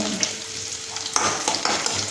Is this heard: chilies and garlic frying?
yes